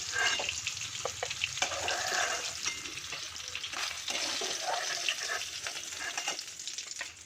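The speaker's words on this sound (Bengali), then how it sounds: "এভাবে আমি অন্য মাছগুলো ভেজে নেব।" Hilsa fish pieces fry in oil over a medium gas flame, giving a steady, close crackling sizzle that holds throughout with small spitting pops and no voices.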